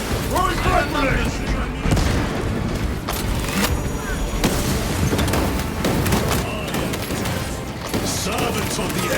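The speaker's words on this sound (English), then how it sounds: "Throwing frag grenades!" Frag grenades going off in the Warhammer 40k Space Marine 2 video game, heavy booming blasts amid a dense, continuous wash of gunfire and battle noise, with a shouted voice line over the din.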